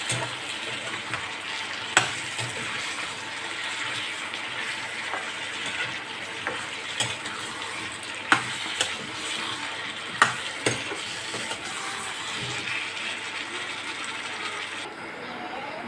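Chopped potatoes and squash frying in a pan, an even sizzle running throughout with a few sharp spatula knocks and scrapes, close by, no speech.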